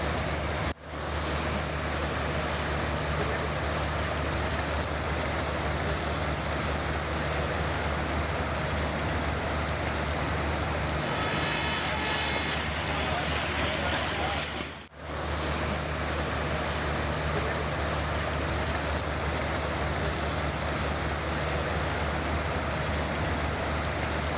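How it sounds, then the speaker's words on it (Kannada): Heavy monsoon rain in Rishikesh, Uttarakhand, a dense, steady roar of falling water that fills the whole stretch, loud and unbroken, with no voices over it. "ಉತ್ತರಾಖಂಡದ ರಿಷಿಕೇಶನಲ್ಲೂ ಕೂಡ ಮಳೆಯ ಅಬ್ಬರ ಜೋರಾಗಿದೆ"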